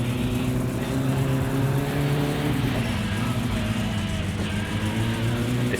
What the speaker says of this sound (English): I've got no exhaust on the car right now. It's a little loud.